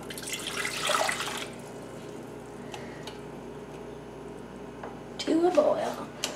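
Water running from a kitchen tap into a pot: a short rushing stream at the start and another near the end, with quieter room sound in between and people talking in the background.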